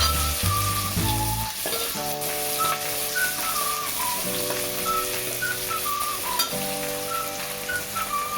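Ginger frying in a pan for a Maharashtrian varan fal dish: a constant bright sizzle and crackle fills the clip, close and fairly loud, with a faint whistling tone on top and no talk.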